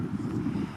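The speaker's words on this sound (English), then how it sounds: "It's very windy today." Wind buffeting a microphone outdoors at a large dog park, a steady low rumbling roar that fills the short moment without pause.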